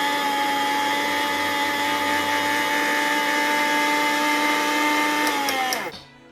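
An electric grinder whirs loudly and steadily, grinding dried rose petals into powder, then winds down and stops near the end.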